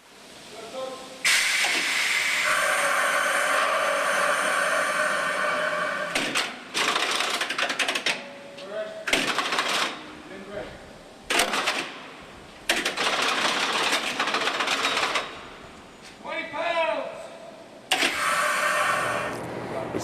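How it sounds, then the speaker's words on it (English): Orange Line subway train standing still as its controls and air brake system run up: repeated loud bursts of compressed-air hissing separated by short pauses, with mechanical whirring and a few squealing tones between. "We're going to hear the controls run up. We're going to hear the air system run through its braking paces."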